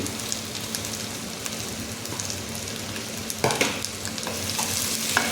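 Roasted chicken frying in a pan with a whole large onion, giving a steady, quiet sizzle with occasional scraping stirs and light clatters.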